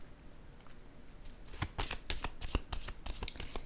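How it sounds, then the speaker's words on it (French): Tarot cards being shuffled and drawn, quiet handling at first, then a run of crisp, rapid riffling bursts up close with no talking. "Je vais piger une autre carte ici."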